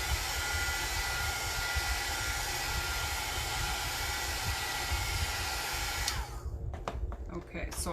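A hair dryer blows steadily and loud over cake decorations, a continuous rushing whoosh that cuts off near the end, leaving brief clatter and handling noise.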